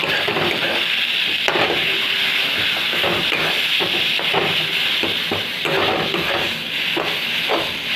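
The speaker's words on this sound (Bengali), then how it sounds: "এই বড়াটাকে এরকম করে ভেজে নেব" Bengali pumpkin leaf fritters (bora) fry in a pan with a steady close sizzle and hiss, broken by scattered small pops and light taps.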